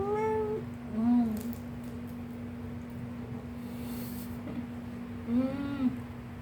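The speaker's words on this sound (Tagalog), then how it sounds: "natatakam din yung pusa ko" A house cat meows indoors in three distinct calls, one at the start, one about a second later and a longer one near the end, loud and close over a steady background hum.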